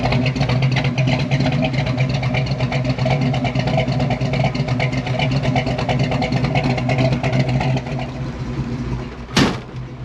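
A car fitted with a 347 stroker engine that is down on power runs steadily and loud, its engine droning throughout with a clattering mechanical edge before easing slightly near the end, then a brief sharp knock.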